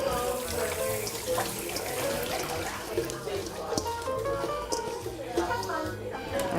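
Tap water runs steadily over red onions being washed at a home kitchen sink, a continuous mid-level splashing wash with faint background talk and small clatters.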